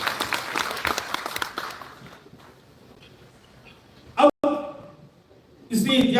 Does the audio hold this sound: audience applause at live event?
yes